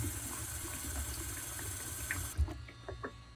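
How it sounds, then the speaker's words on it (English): Water runs steadily from a tap into a pressure cooker holding jars, a close hissing flow that cuts off near the end, followed by a few small clunks, with no talking. "we're gonna fill it with water up to until it reaches the base."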